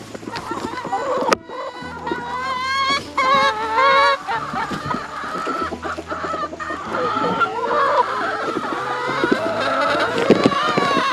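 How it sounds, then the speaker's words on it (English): A flock of chickens, just let out onto a backyard compost pile, clucks loudly and steadily at close range, with some louder squawking calls mixed in. "All right, let's let the chickens out and see how it goes."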